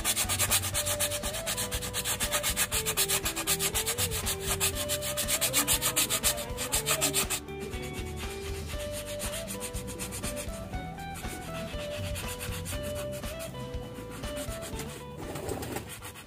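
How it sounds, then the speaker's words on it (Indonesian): Coarse sandpaper rubbed against a coconut shell for a bonsai pot makes a steady, continuous scraping that runs throughout under background music, easing slightly after the midpoint. "Kita pakai amplas yang kasar ya, agar lebih mudah"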